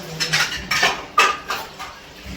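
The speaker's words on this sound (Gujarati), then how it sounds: "વાસણ ધોવાનું ચાલુ હે ને." Dishes being washed by hand: several sharp clatters of metal pots and cutlery knocking together in quick, irregular bursts, close by and loud, with no talking.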